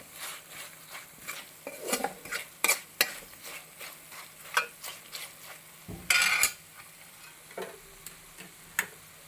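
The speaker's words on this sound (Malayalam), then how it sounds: "മുളക് കരിഞ്ഞു പോകാതെ നന്നായിട്ടൊന്ന് ഇതുപോലെ ഇളക്കി കൊടുക്കുക" A spatula scrapes and clinks against a pan in irregular strokes as chillies fry for fish pickle, over a soft, steady sizzle, close up with no talking.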